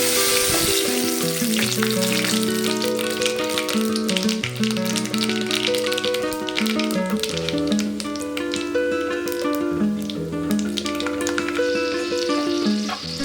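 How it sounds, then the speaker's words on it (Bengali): Whole spices for tempering sizzle and crackle in hot oil in a kadai, a continuous close frying hiss with scattered pops, under a bed of background music. "এবার কড়াইয়ে তেল গরম করতে দিয়েছি, আর তারপর আমি ফোড়নগুলো একে একে দিতে থাকবো।"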